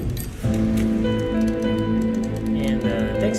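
Evening rain falling, steady patter on surfaces with a tonal hum and scattered clicks layered over it, moderately loud and continuous throughout.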